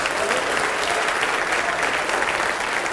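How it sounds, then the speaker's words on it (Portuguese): A church congregation claps together, loud and continuous applause with a faint rhythmic pulse running steadily throughout. "Vamos aplaudir mais ao nome de Jesus."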